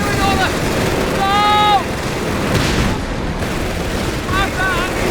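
Gunfire and explosions rumble through a Company of Heroes 3 battle between British Matilda tanks and flak, a dense, steady wash of noise with shouted in-game voice lines breaking through over it.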